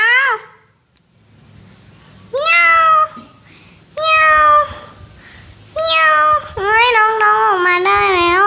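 A pet cat meows repeatedly at close range, several loud drawn-out cries with short pauses between them and a longer, wavering run of calls near the end, in a quiet indoor room.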